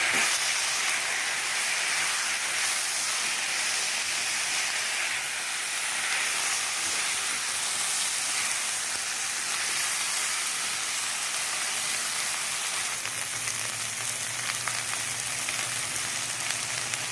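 Okra (bhendi) frying in a pan for a crispy bhendi fry gives a steady, loud, close sizzle and hiss that continues unbroken throughout, with no voices.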